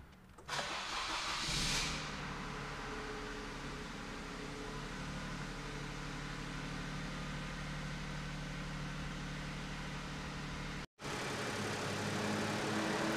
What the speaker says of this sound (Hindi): तो चलिए आपको मैं इस गाड़ी को स्टार्ट करके दिखा देता हूँ